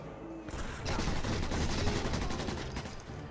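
Sustained machine gun fire in the video game Sniper Elite 4, a dense rattling stream of rapid shots that stays steady and fairly distant for a few seconds with no talk.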